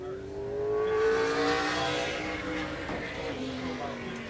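A 1998 Monte Carlo late model race car roars on the Grundy County Speedway oval, its engine note swelling and sliding in pitch as it passes, with an announcer's voice running over the engine.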